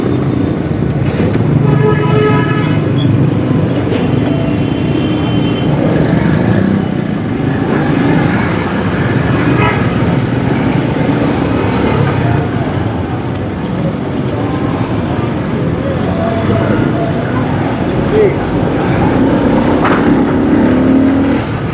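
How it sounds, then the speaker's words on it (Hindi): Steady, loud road traffic held up beside drain and rail line construction work, a continuous wash of idling and crawling car and motorcycle engines with no breaks in the noise. "अब ये देखते हैं कि यहाँ पर ट्रैफिक जाम क्यों हुआ है।"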